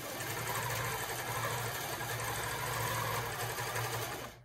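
A longarm quilting machine stitches steadily with a fast, even mechanical whir and a faint rhythmic needle patter, close and quiet, then stops abruptly at the end.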